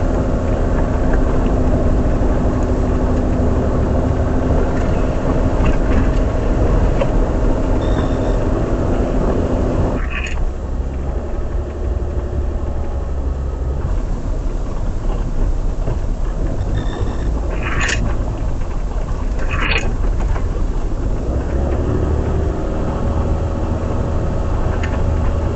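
A car drives along, recorded from inside by an Arpha dash cam: continuous road and engine rumble with tyre noise and a few faint passing clicks, no voices.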